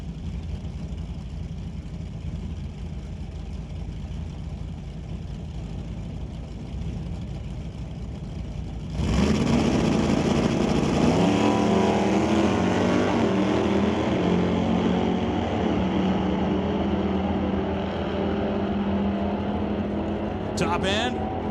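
Drag race between a Plymouth Barracuda and a Monte Carlo at a racetrack: a steady engine drone under commentary, then a sudden loud blast of engines launching that holds and slowly fades, with talk continuing.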